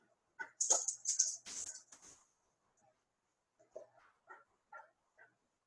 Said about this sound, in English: It's very stressful for my dogs